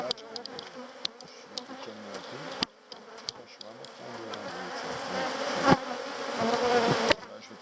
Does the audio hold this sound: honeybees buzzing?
yes